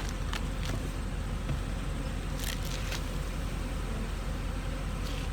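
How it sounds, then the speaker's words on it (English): Honey bees buzzing steadily in stacked hive boxes during a honey harvest, a dense continuous drone with faint clicks and rustles close by. "these boxes are full of bees"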